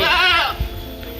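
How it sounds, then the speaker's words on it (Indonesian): Goats bleat on a rural village road in inland Central Java, a loud wavering cry at close range followed by a quieter low call and steady outdoor background. "Di sini juga ada kambing-kambing ya teman-teman"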